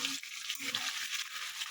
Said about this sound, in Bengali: এটা ভালো মতন ভাজা হয়ে যায়।